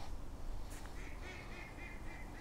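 Ducks quack faintly at a fishing lake during a live angling match, a few short nasal calls rising over steady outdoor background noise.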